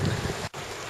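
Tidal water rushes out through the narrow entrance of a marina, a broad continuous outdoor wash with wind buffeting the microphone and a brief dropout partway through.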